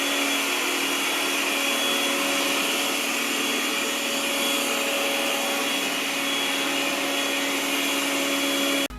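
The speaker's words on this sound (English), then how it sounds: "Yeedi Vac Max is very quiet in standard suction power mode" A Yeedi Vac Max robot vacuum cleaner runs in standard suction mode, a steady close whirring hum with a fixed tonal whine that holds evenly until it cuts off at the very end.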